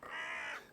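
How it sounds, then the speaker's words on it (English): A hooded crow gives one harsh, drawn-out caw, close and clear, with nothing else around it. "This is the hooded crow."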